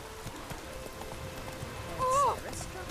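Hooves of the horse Roach clip-clopping in The Witcher 3, a soft steady walking rhythm under ambient game sound, with a brief voiced line near the end.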